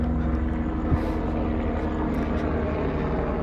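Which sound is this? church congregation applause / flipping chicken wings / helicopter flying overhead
helicopter flying overhead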